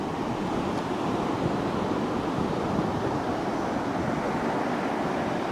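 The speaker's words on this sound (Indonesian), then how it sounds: "Ombaknya mulai besar" Late-afternoon ocean surf at Batu Hiu beach in Pangandaran, a steady, dense wash of breaking waves mixed with wind buffeting the microphone, no talking.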